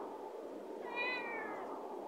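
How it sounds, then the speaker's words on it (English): A Siamese tabby mix rescue cat, about four or five years old, lets out a single loud, drawn-out scream-like yowl in the middle, rising and then falling, heard close up over quiet background hiss. "He doesn't meow, he screams."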